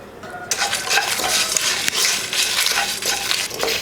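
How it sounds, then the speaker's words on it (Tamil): Spice masala dry-roasting in a pan with a little oil is stirred briskly, a spoon scraping and clinking against the metal over a soft sizzle, close and busy, with no talking. "முதல்ல வறுத்துக்கலாம். கொஞ்சம் எண்ணெய் ஊற்றி வறுத்துக்கலாம்."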